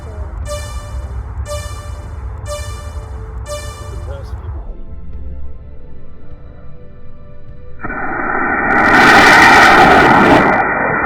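Model rocket launch at a Cub Scouts space-badge outing, with a sharp ignition roar rising into a loud rushing whoosh near the end, preceded by outdoor noise and talk.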